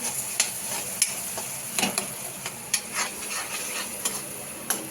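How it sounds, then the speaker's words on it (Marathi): Onion and tomato for pav bhaji being stirred in a frying pan, a continuous sizzle broken by repeated scraping strokes and soft spoon knocks against the metal, up close. "आता पूर्ण हलवत राहायचं आहे जेणेकरून पटकन शिजणार नाही, खाली चिकटणार पण नाही."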